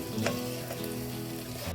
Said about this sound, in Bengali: সয়াবিনগুলোকে খুব ভালো করে কষিয়ে নেব যাতে তেল মশলাগুলো এর ভেতর ভালোভাবে ঢুকে যায়